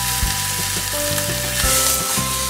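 Beef cheeks sear in a hot pan, a dense continuous sizzle with a few soft thumps and scrapes as pieces are moved, close and loud with no voices.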